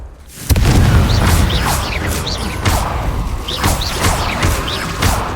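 A Confringo explosion spell from the video game Hogwarts Legacy goes off with a sudden, loud, booming blast that stays dense and rumbling for several seconds, with whooshing debris and high crackles layered on top.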